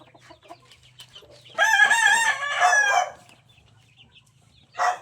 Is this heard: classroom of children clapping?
no